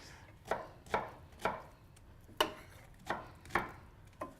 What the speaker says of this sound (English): So I'm just gonna chop the onions.